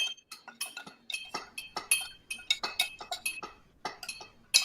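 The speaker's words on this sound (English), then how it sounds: "Give that a little stir." A metal spoon clinks rapidly against the sides of a glass, stirring honey into hot water in an irregular run of bright, close taps, with no one talking.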